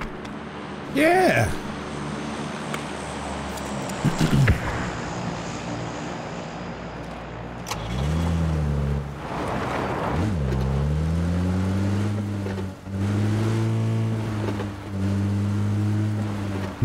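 A car engine in a tactical shooter game revs and drones near at hand, the pitch rising and falling as the vehicle gets moving. Players talk and shout over it.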